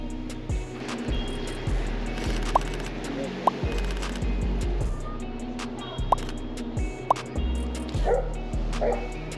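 A golden retriever barks in short separate yaps outdoors, with passing traffic rumbling underneath and occasional sharp sounds nearby.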